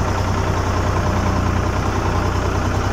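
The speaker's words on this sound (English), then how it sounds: "Beautiful tractor to drive." A Ford 4000 tractor engine runs steadily at a loud, even idle-like drone in a muddy field, a constant low rumble with no pauses.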